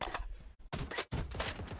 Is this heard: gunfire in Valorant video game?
yes